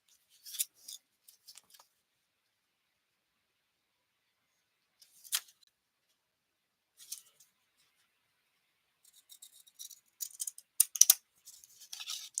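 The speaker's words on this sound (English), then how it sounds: "let's go ahead and get these decorative scissors" Decorative scissors snip through paper in short bursts of crisp cuts, separated by quiet pauses, with a denser run of snipping toward the end; close and clear, with no talking.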